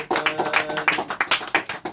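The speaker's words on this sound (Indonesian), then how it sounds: "Bisa tepuk tangan dulu." Applause from an event audience at a talk on threats and attacks, a quick run of close, uneven claps, moderately loud with no voices.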